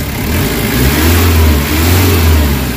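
A Nissan Vanette engine, fixed after a low-power throttle-delay problem, revs loudly and steadily up close, its low drone rising and falling in two broad swells with no talk over it.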